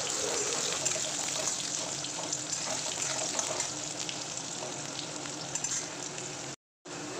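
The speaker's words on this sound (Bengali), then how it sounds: "আলুগুলো তেলের মধ্যে এখন একটু আমি নাড়িয়ে নিচ্ছি।" Potatoes frying in hot oil in a pan, with a steady, dense sizzling hiss carrying on without a break until a brief cut near the end.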